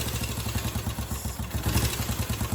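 A Honda CB350 twin motorcycle engine runs with the throttle held slightly open, a close, uneven pulsing beat with mechanical clatter on top.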